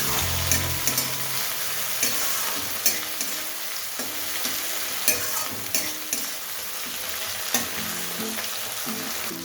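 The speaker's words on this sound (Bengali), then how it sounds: "এবার টমেটো আর পেঁয়াজটাকে একটু ভেজে নেব।" Chopped tomato and onion fry in a pan with a dense, steady sizzle, broken by repeated scraping stirs of a utensil; no voices, close and loud throughout.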